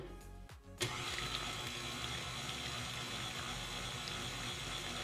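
An electric mixer blends vanilla extract into cake batter, kicking on sharply after a brief quiet start and then running as a steady motor whirr close by.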